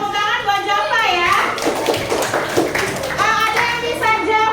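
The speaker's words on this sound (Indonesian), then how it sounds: "Tepuk tangan buat Jova ya." A classroom of children claps for a student in a lesson, scattered hand claps and taps mixed with kids' voices and a teacher talking throughout.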